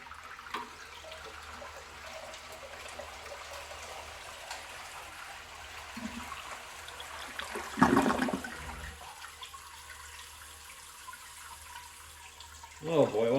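A 1961 Case 1100 lowboy toilet flushes with a loud gush of water, then the fill valve hisses steadily as the tank refills, with another burst of water near the end.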